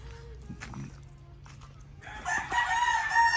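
A rooster crows loudly near the end while chickens cluck and shuffle on a farm in the Philippines, with scattered clucks and light footsteps before the crow.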